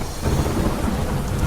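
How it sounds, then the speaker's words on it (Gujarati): Heavy monsoon rain pours steadily with a deep thunder rumble beneath it, a dense, loud, continuous wash of sound with no voices. "ભારે વરસાદ વરસતા રસ્તા જળમગ્ન થયા."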